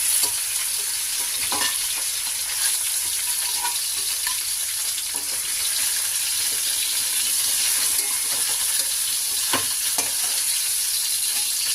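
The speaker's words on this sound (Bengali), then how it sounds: "মাছের মাথাগুলো ভাজা হয়ে গেছে" Steady, loud sizzle of catla fish heads frying in hot oil, with occasional stirring clinks and pops throughout and no voices.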